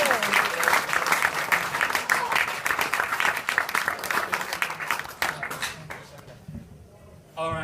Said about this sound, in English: Let's give Elise a huge round of applause for helping out.